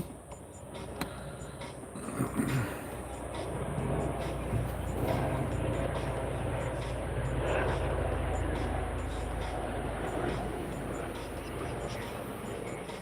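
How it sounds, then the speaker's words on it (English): A helicopter rips along overhead, giving a steady, fairly faint rotor and engine rumble that swells slightly and then holds for several seconds under light background noise. "I couldn't see that chopper."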